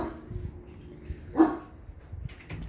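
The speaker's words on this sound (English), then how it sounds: "Oh, bark, bark, bark." A single dog bark sounds at a house's backyard door, one short sharp burst standing out from a steady low background hum.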